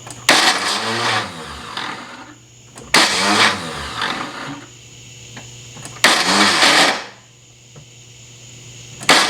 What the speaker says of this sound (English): the starter spins, but it's not engaging the flywheel